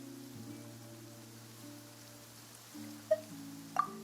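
Rain falling in the game Genshin Impact, a soft, steady patter under a low sustained musical drone, with two brief bright chime-like accents near the end.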